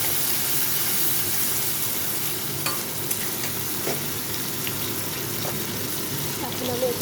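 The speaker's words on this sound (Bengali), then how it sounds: "জাস্ট কর্নটা একটু নেড়ে নেব," Corn kernels being stirred in a pan for a corn paneer dish, a continuous hissing sizzle close by with occasional light clicks and scrapes of the spatula.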